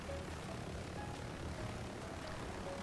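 A helicopter rotor and engine drone steadily as the aircraft hovers in the video game BRM5, a constant loud whir with no pauses.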